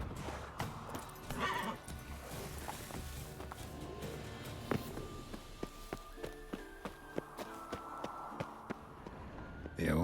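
Roach, a horse in the video game The Witcher 3, neighs and whinnies early on, then hooves clip-clop in a steady walking rhythm, fairly close against a soft outdoor backdrop.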